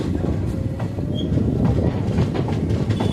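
The Teesta Torsha Express, train 13142 bound for Sealdah, rolls along after leaving New Farakka Junction, its wheels rumbling loudly with rhythmic clatter and faint squeals, heard from inside the carriage.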